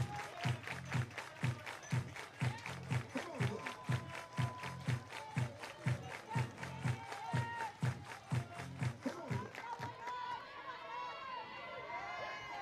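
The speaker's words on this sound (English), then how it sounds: "Everybody clap your hands." A college softball stadium crowd at a Georgia versus Duke game claps in unison, a steady rhythmic beat of roughly two claps per second heard from a distance, ending after about ten seconds into general crowd noise.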